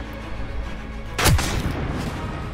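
A single sharp gunshot in Call of Duty: Modern Warfare cracks out near the middle, followed by a short booming echo over a low, steady rumble.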